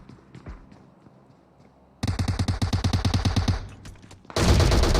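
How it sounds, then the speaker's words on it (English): A burst of rapid automatic gunfire in a video game runs close and loud, and a heavy grenade-like blast follows at the end. Softer scattered shots come before it. "I like they're throwing some grenades inside, not getting a hit though there"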